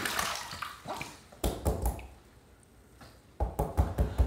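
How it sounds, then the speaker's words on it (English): Water running over a Gillette safety razor during a wet shave, rinse bursts splashing close in two clusters with a quieter pause between them. "let's rinse."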